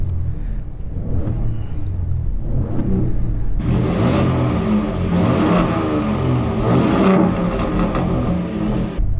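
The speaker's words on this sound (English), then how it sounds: "let me show you what the different exhaust sounds sound like inside and outside of the cabin" A 2021 Ford F-150 Raptor's exhaust in quiet mode rumbles at low idle, then swells into a few revving surges that whir and roar before settling, heard alone without talk.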